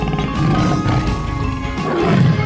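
A tiger's roar from a 3D animal video game, a broad, rumbling growl that holds across the whole moment at steady loudness with no talk over it.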